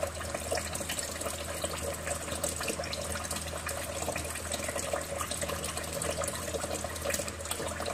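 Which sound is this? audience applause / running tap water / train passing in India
running tap water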